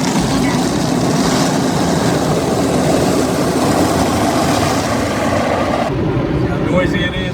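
Automatic drive-through car wash rollers run loudly and steadily, a dense continuous churning roar with spraying hiss, heard from inside the car; the noise thins abruptly near the end as the rollers move aside.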